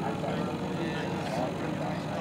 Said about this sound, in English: We're coming out. All right, taxiing out.